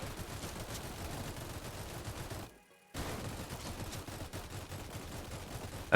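A minigun in Roblox Tower Defense fires continuously in a dense, rapid stream of shots. It breaks off briefly for a moment of near silence, then resumes at the same steady intensity.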